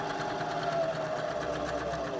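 A sewing machine stitching steadily across a zipper closure near its teeth, a continuous close mechanical whir with rapid needle rhythm, no speech.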